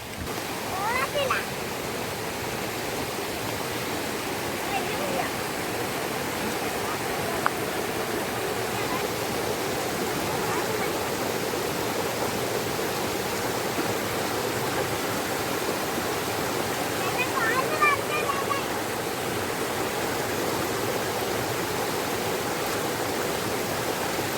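Water rushes steadily and close by, a continuous broad hiss of a clean flowing mountain stream with no breaks, at Ottaplavu near Kottiyoor, Kerala.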